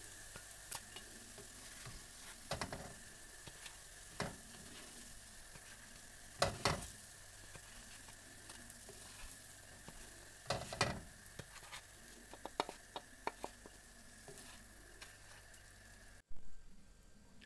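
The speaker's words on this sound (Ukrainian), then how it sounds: "І смажимо до готовності." Apple pancakes fry quietly in a pan with a soft, continuous sizzle, broken by a few louder crackles and spatters.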